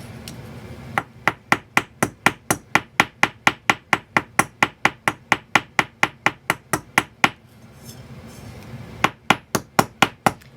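Hammer blows strike a nail being set as a rivet in a fast, even rhythm, about thirty sharp metallic hits, a short pause, then a few more strikes; loud and close.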